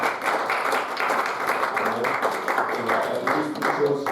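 A church congregation applauding during a worship service, a steady, dense wash of many hands clapping that holds at an even level throughout, with some voices mixed in.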